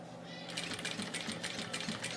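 A sewing machine stitches a bag in a short, steady run that starts partway through and is heard close and fairly quiet, with no talking.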